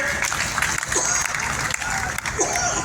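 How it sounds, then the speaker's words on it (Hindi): An audience at a comedy poetry event claps loudly and steadily for local administration officials, dense crowd applause with a few voices and sounds mixed in. "आप लोग एक बार अपने शासन प्रशासन के लिए जोरदार तालियां बजाइए।"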